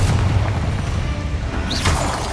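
A Confringo explosive spell cast in Hogwarts Legacy lands as one loud, deep boom. A rumbling tail fills the whole moment.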